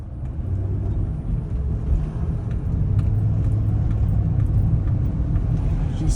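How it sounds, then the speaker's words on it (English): A car engine rumbling badly from inside the vehicle, a low, continuous droning rumble with a faint whir, steady and fairly loud with no talk over it. "But I don't know if y'all can hear how bad my car is rumbling."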